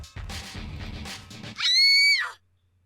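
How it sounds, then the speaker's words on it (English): A shrill female scream in the Fate/Stay Night visual novel rings out loud and sustained for under a second, following a stretch of spoken dialogue. "Did that scream come from below?"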